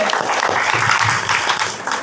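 An audience at a gathering in Kadiyapulanka claps steadily and densely for about two seconds, fairly close and loud, with voices faintly mixed in.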